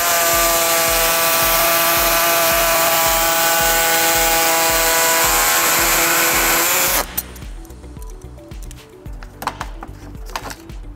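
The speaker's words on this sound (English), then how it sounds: "Next, we're gonna be trimming the air deflector, which we already marked from the rear of the bumper 2 inches." A power tool trims the plastic air deflector under the rear bumper of a 2018 Toyota Highlander, a loud steady whining buzz close by that cuts off abruptly partway through, leaving quieter scraping and handling noises.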